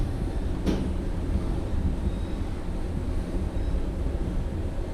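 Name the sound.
hotel elevator ride, Hyatt Place LAX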